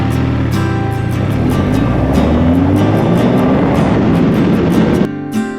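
A BMW R12 NineT motorcycle roars loud and steady at close range for about five seconds, then the engine noise drops away sharply.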